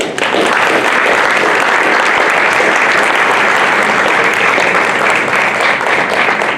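Steady, loud applause from an audience at a League forum for California State Assembly and US Congressional District 1 candidates, a dense unbroken wash of clapping that carries on throughout.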